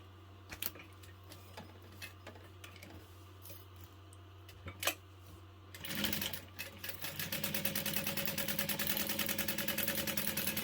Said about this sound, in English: 3/8 inch seam allowance, back stitching at the start and the stop